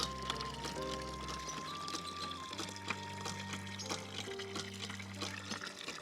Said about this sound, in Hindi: प्यास चूँकि हमें भी लग रही है तो इसी वाटर हैंड पंप का पानी हम भी पीते हैं।